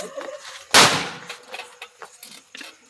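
A Diwali firecracker bursts with a single loud, sharp crack, followed by faint crackling pops and scattered background voices.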